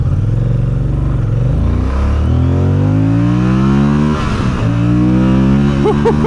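A 2027 Moto Guzzi Stelvio motorcycle in sport mode revs hard and accelerates through several gear changes, its engine note climbing, dropping at each shift, then climbing again, loud and close.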